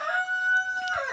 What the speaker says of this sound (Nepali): यहाँ भित्र चाहिँ हाम्रो कुखुरा छ।